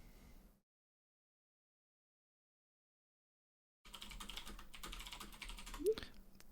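Someone types on a computer keyboard while playing an online Colonist.io match: a quick burst of key clicks, then a long silence, then steady, fairly quiet tapping with a slightly louder click near the end.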